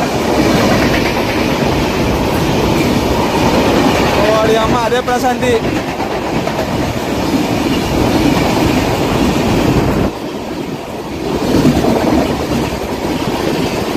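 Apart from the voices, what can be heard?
train passing on railway tracks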